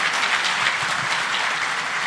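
A seated audience at a media conclave session gives a standing ovation, filling the room with a thick, continuous roar of clapping throughout, without any talk.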